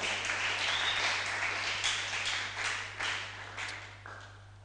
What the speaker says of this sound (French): Et acclame aussi très fort pour la gloire de Dieu